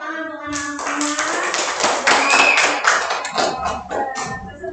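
Children clap together in a classroom, a steady close patter of many small hands running the whole time, with voices and chatter mixed in throughout.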